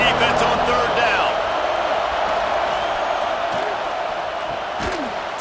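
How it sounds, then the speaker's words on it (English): Stadium crowd roar in a college football video game, Kansas State against Tennessee, holds steady and loud throughout as a dense wash, with an announcer's voice partly over it. "Decibels rising as the crowd gets behind this defense on 3rd down."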